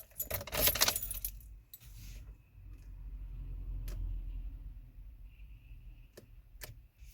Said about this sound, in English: So now we're just gonna turn the ignition on